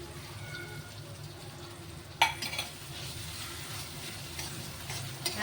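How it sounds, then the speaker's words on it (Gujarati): Ginger and garlic fry in a pan with softened tomatoes, giving a faint low sizzle, then a sharp clink of a utensil against the pan followed by a few light stirring scrapes, quiet and close. "આદુ લસણ શેકાવતા વાર નહીં લાગે, એ તો ફટાફટ શેકાઈ જશે"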